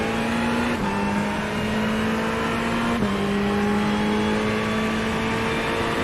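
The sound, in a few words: GT3 race cars racing at Daytona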